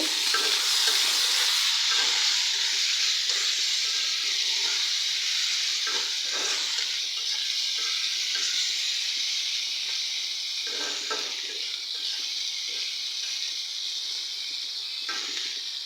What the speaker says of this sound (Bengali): মাছটা একটু ভেজে নেব